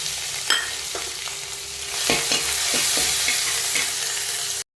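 Crushed ginger, garlic and curry leaves frying in hot oil for a chicken curry, a loud continuous sizzle punctuated by a few clattering spoon stirs, growing hissier toward the end.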